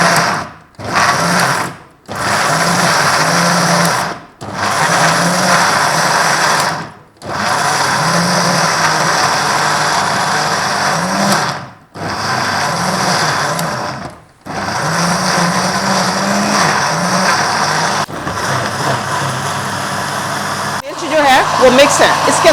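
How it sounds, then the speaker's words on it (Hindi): A kitchen blender whirs loudly through a smoothie with water in repeated bursts of several seconds each, separated by brief pauses, the motor pitch shifting slightly as the mix churns. "अब इसको हम ब्लेंड करेंगे।"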